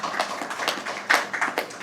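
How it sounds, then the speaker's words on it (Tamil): A school audience claps for a Muslim Maha Vidyalayam team at a Tamil debate competition, scattered hand claps rising and falling in a brief burst of applause without speech. "உங்களுடைய உற்சாகமான கரகோஷம்"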